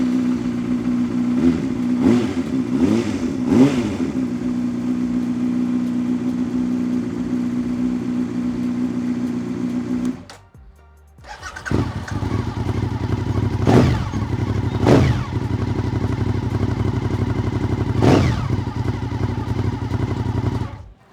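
A motorcycle engine revs repeatedly, sharp throttle blips rising over a rumbling idle, then cuts out briefly around the midpoint before restarting and revving again several times, loud and close.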